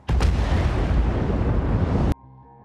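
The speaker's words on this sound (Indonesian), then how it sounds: "tiba-tiba hotel tempat Sabina dan ayahnya menginap meledak" A hotel blows up in a film scene, a loud sudden blast that erupts into a sustained roaring rumble for about two seconds and then cuts off abruptly to quiet music.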